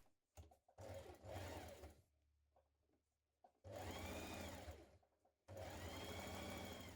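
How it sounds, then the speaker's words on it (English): Sewing machine stitching the side seam of a leotard skirt with right sides facing, running in two long loud bursts with a short quiet pause between them. "So right side's facing, stitch it in place and then edge finish."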